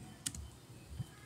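A few light keystrokes typing a command on a computer keyboard: two or three soft, close clicks spaced apart over a faint steady background hum, no talk.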